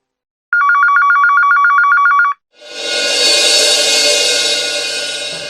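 A telephone rings with a rapid electronic trill for about two seconds, loud and close, then cuts off and gives way to a steady broad hiss of room or street noise.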